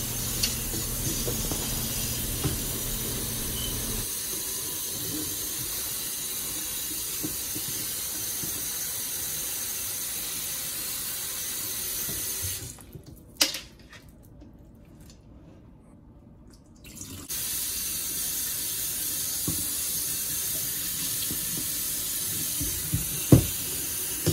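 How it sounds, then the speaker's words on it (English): Tap water runs steadily over cut cabbage being rinsed in a kitchen sink, a continuous close hiss and splash that briefly stops midway and then resumes. "Now that you have your cabbage all cut up, you want to give it a good rinse."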